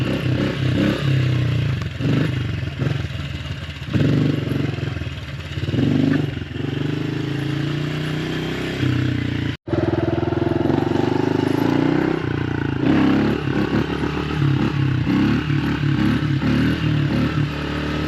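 Honda CRF110 dirt bike rides steadily with a loud, buzzing engine that rises and falls through gear changes, with rattling and clatter over rough ground, close up and continuous with one brief dropout midway.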